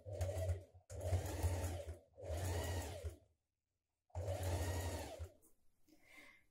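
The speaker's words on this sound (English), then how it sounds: "Now we're going to understitch the seam to the pocket a couple of millimetres away from that seam" A sewing machine runs in several bursts of about a second each while understitching a seam to a dress pocket, a close whirring hum with short pauses between runs and a fainter tail at the end.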